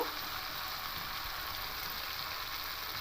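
Boiled mung dal sautéing with turmeric in a pan gives a steady, even sizzle with a broad hissing texture, continuous and close throughout, with no voices.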